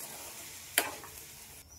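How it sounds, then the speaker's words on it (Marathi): Chopped banana flower and cooked lentils are stirred and sautéed in a pan, a soft steady sizzle broken by two brief, sharper scraping strokes of a spatula. "आणि आपण व्यवस्थित आता परतून घेऊया"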